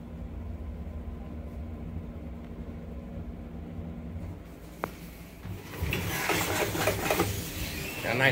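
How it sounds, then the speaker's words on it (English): A Schindler hydraulic skywalk elevator at the Destiny USA mall in Syracuse, New York, departs: a steady low mechanical hum, then a sharp click and a louder, rising whir of machinery as the car moves off. "There goes the elevator."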